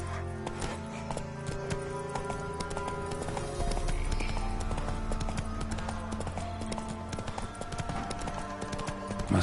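Horse galloping with steady clip-clop hoofbeats in Witcher 3 Wild Hunt, loud and continuous under game music, with a short neigh.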